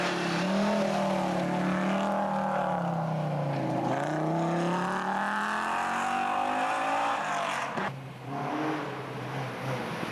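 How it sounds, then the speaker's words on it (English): Audi Quattro rally car, driven by Paul Schwanier and John Buffum, charging along the Sleeper Lake forest stage at the 1989 Rally of the Tall Pines, engine note rising and falling loudly as it shifts and races past, with a sharp change near the end. "Paul Schwanier and John Buffum in the Audi Quattro"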